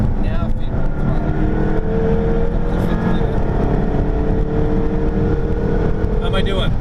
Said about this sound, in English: Now feed the throttle.